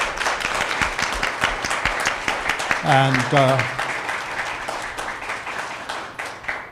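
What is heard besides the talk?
audience applauding the panel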